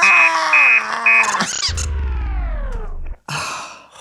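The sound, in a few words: robot alarm clock sounding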